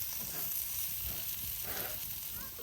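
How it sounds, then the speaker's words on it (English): A 24-hour marinated chuck eye steak sizzling on a grill at a cabin campsite, a continuous fairly faint hiss and crackle with no pauses. "You hear that? 24-hour marinade steak."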